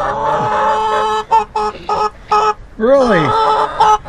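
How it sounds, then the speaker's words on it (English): Noisy backyard hens cluck and squawk in loud, irregular bursts close by, while a person talks over them in a friendly voice. "I've got really noisy chickens today."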